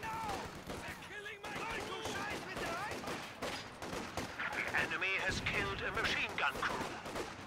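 Machine gun fire and explosions in the video game Company of Heroes 2, dense bursts of battle noise mixed under continuous voices of players talking.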